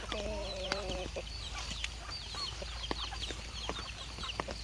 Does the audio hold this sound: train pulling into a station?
no